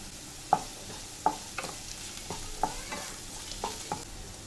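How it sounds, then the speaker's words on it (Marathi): Onion and green chilli frying for rava upma, a faint sizzle under a handful of distinct spatula scrapes and taps spaced about half a second apart. "कांदा आपल्याला पूर्ण अगदी एकदम लाल नाही करायचा याचा मिडियम करायचा मिडियम भाजायचा"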